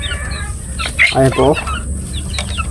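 Chickens cluck and chicks peep nearby in a short burst, with a brief spoken phrase in the middle.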